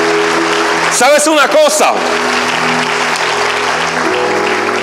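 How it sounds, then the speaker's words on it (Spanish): Church congregation applause, a loud continuous clapping texture that is briefly overlaid by a preacher speaking, then carries on under sustained tones and murmuring. "Dale un fuerte aplauso al Señor"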